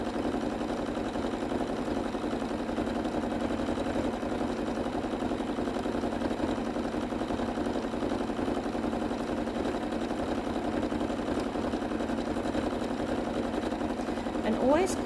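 A sewing machine hums steadily through continuous free-motion quilting, a close, even whirr running without pause for the whole stretch, with no talking over it.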